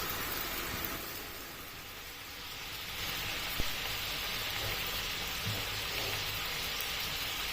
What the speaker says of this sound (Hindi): और अब इस दही में इसे 2 से 3 मिनट तक भून लेना है।